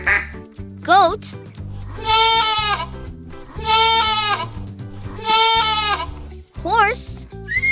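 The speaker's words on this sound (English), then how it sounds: "goat," A goat bleats three times in long, wavering, nasal calls of similar length, loud and close, framed by brief musical or voiced sounds at the start and end.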